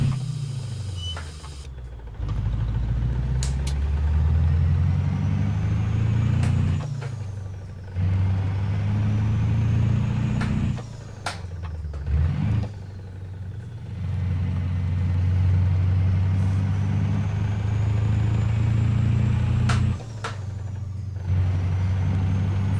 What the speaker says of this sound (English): the wheel and tire sound